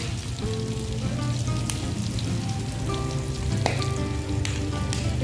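Garlic sizzles in hot oil in a pan beside pork belly, making a loud, steady, close frying crackle with scattered pops and occasional utensil clinks, and no voices.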